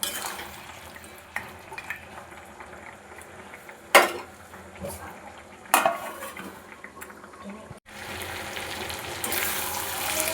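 Mutton simmering and being stirred in its own gravy in a covered pan, with soft sizzling and bubbling under scattered clinks and scrapes of a spoon against the pot, fairly quiet and close, and no one speaking.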